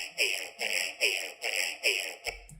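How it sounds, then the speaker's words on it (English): A processed, grainy tone repeats in five swelling pulses, bright and shimmering with stacked high partials, stuttering and smeared like granular echoes, with no clean original underneath. "because if I just put the grain delay without the dry effect,"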